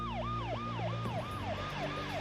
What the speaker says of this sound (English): I happened to hear a siren.